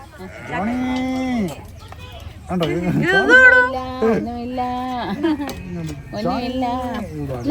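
A cow moos repeatedly on a farm at Wadi Al Amardi in Dubai: long, loud, close calls in three drawn-out bursts with short pauses between them.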